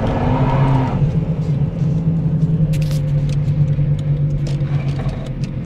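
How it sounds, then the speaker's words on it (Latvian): Car in fifth gear spinning its wheels on an uncleared asphalt road in Latvia, a steady loud engine drone and tyre whine holding throughout with no voices. "Ar 5. robu mašīna vienkārši spolē uz asfaltu."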